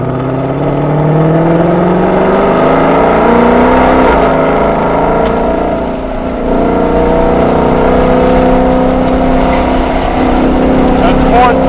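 A 2020 Ford Shelby GT500 accelerates hard on a race track, its engine note climbing steadily through the gears in a loud, continuous close-up roar with a brief dip mid-run as a voice talks over it.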